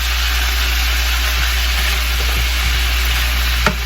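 Thinly sliced carrots hitting a hot pan for pancit canton give a steady, close broadband sizzle over a low hum, with one brief sharper clatter near the end.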